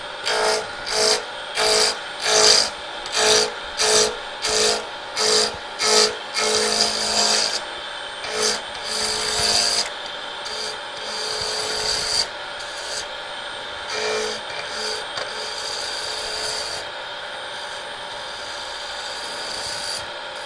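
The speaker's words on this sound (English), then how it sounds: "I don't know if this is going to pick up more lathe noise too." A wood lathe turning, with rhythmic bursts of scraping and rasping early on that settle into a steadier, fainter grinding whir.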